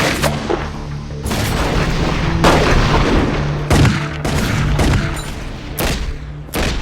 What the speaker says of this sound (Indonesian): Dalam gelap malam, dua kelompok pembunuh bayaran saling melepaskan tembakan.